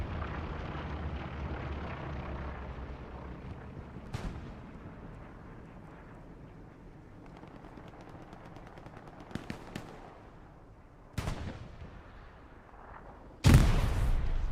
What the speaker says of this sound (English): I don't know what caused that explosion to be so massive.